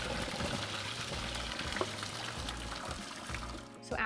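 Hot pasta water pours from a pot into a colander in a steady gushing splash that continues throughout and thins to a trickle near the end.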